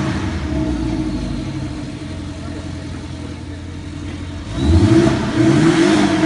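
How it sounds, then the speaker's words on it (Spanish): A Porsche 718 Boxster with a four-cylinder engine idles near the microphone, then blips its throttle in a sharp rev about two-thirds through and holds a louder, raspy note until the end. "el carro, así tenga un motor de 4 cilindros, el sonido sigue vigente"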